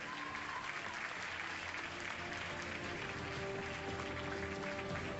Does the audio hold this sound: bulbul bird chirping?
no